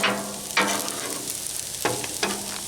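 Eggs sizzle steadily in a pan while being firmed up for chicken fried rice, a continuous close frying hiss broken by a few sharp scrapes and knocks of a utensil stirring against the pan.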